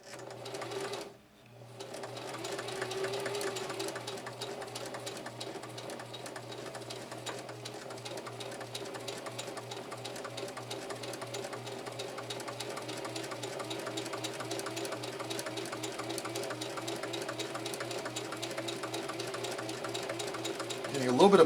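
A Singer Heavy-Duty 4423 sewing machine stitching delicate satin at slow speed, giving a steady mechanical hum with a fast, even needle clatter that drops out briefly near the start and then runs on without a break.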